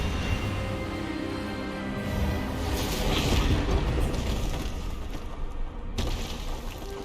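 A spell cast in Hogwarts Legacy lands as a loud, sustained magical burst, a booming rush of energy with crackling texture peaking midway and a sharp cutoff near the end, with no talk over it.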